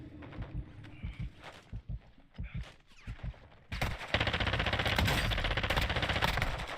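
Rapid gunfire from the video game DMZ bursts in loud and dense after several seconds of scattered softer thuds and footstep-like taps, continuing as sustained automatic fire to the end.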